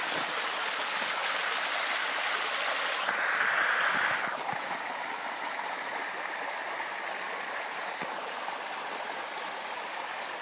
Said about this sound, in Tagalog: Diyan sa umaagos na tubig na yan.